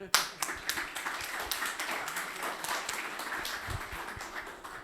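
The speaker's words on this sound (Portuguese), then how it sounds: "uma salva de palmas para o nosso apresentador aqui" An audience claps for a presenter at a live session, a sharp opening burst settling into steady, moderately quiet applause from a small group, with a faint voice underneath.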